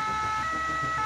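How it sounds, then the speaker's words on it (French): Ambulance siren as the vehicle heads out on an emergency call with firefighters and SAMU in northern France, a steady two-tone wail held at moderate level throughout, with no talk. "Une ambulance part dans la foulée."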